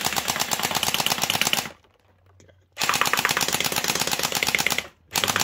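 Mini M249 gel blaster firing gel balls in two long, loud, rapid full-auto bursts with a short pause between them, then a brief third burst starting at the very end.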